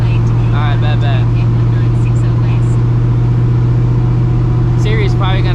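A cammed, procharged New Edge Mustang GT cruises along a freeway service road, its engine holding a steady, loud low drone throughout while a person talks over it.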